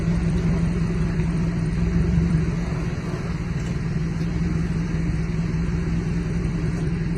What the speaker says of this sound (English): So he's pulling on the forklift to get it out.